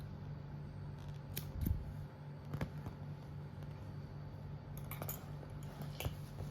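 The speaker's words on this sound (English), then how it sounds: "so we can just cut the yarn" Scissors cutting crochet yarn on a granny hexagon, a few faint, close snips and light clicks spaced out over a low steady hum, no voices.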